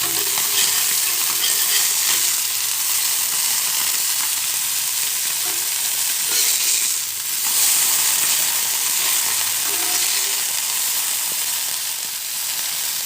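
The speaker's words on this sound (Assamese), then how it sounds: "এতিয়া ভাজি লওঁ এনেকৈ ভাজি লৈছোঁ কম তেল দি দিবি" Small pieces of fish frying in a little oil on a gas stove, a loud continuous close sizzle and crackle that runs without a break and has no talking over it.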